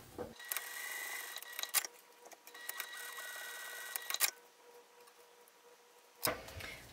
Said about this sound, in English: you would want to backstitch at the beginning and the end to make sure those stitches hold down